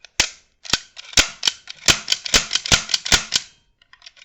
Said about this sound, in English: So when I push the trigger, this moves back.